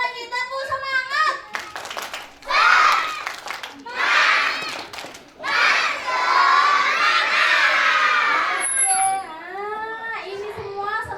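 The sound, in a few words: children shouting a spirited cheer at a graduation show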